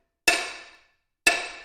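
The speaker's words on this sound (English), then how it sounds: "we're going to take a hammer, hit this black plate with that heavy side of the hammer" Two solid hammer blows on the black plate of a Floorex 480 satellite concrete grinder, each a sharp metallic strike with a ringing decay, about one second apart, close and alone.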